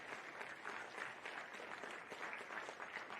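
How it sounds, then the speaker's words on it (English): Faint, distant applause from the crowd at a U14 boys' sports final, a steady patter of clapping lasting a few seconds with no speech over it. "If you could give them a round of applause"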